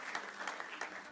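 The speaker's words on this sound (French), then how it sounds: "Je pense que c'est important, on peut les applaudir." An audience applauds the members of a startup contest jury at a Paris awards event, with steady, dense clapping that runs continuously and fairly far off.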